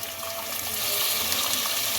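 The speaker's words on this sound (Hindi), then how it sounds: "और अब इसके अंदर 2 गिलास के करीब पानी डाल दें" About two glasses of water pour into a pot of frying peas and spices, a steady close gushing splash that builds slightly and holds for the whole moment.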